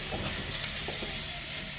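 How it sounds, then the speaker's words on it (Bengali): Grated coconut sizzles and hisses in a frying pan, with soft stirring scrapes over a steady, close frying hiss. "আর এই পাশে আমার নারকেল ভাজাটা করছি।"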